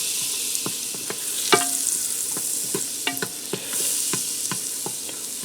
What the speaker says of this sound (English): I'm going to add 2 tablespoons of butter in here. Get that started to melt down.